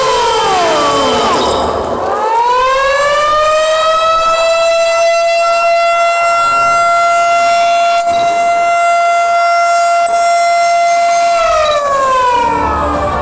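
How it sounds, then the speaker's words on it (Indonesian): A loud siren, like a civil-defense siren, winds up, holds a steady wailing tone and then winds down, filling the room to open the Andalas Forum III 2022 palm oil industry event in Jambi. "penekanan sirine dilaksanakan oleh Gubernur Jambi bersama-sama dengan Ketum Gapki"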